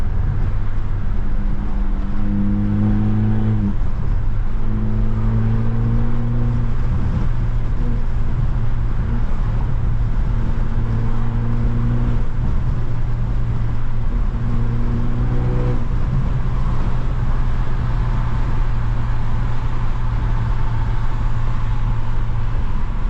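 A straight-piped BMW 320i with a stage 2+ tune drives along, its exhaust droning loud and close with low rumbling tones that rise and fall through revving gear pulls, with no talking.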